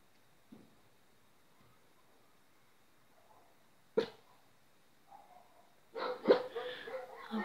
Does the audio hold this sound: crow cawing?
no